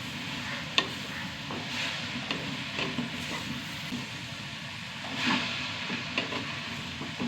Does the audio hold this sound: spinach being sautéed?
yes